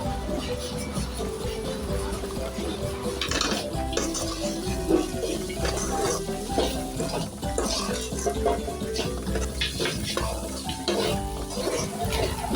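Cooked okra stir-fry is stirred in a hot pan, with repeated scraping and clinking of a ladle against metal over a steady sizzle, close and busy throughout.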